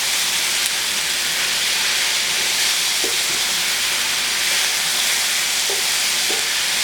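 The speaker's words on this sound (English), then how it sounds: "You just want to stir it around. Heat up the garlic." Garlic frying in a pan while being stirred, a steady, close broadband sizzle running throughout with a few faint scrapes of the spoon against the pan.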